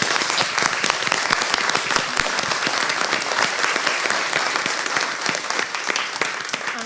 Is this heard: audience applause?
yes